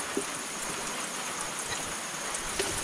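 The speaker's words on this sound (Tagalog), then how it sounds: "Halos ayaw tumigil yung ulan ngayon." Steady rain hisses continuously at close range in the countryside, a dense wash of patter with occasional sharper drips standing out.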